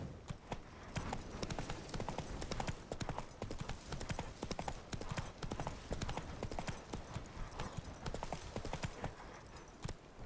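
Roach, a horse in The Witcher 3, trots with dense, rapid clip-clop hoofbeats in a steady rhythm that continues throughout, close and fairly quiet, with a faint voice briefly audible.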